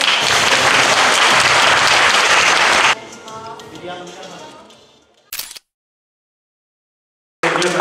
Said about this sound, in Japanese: 大きな大きな拍手をお願いします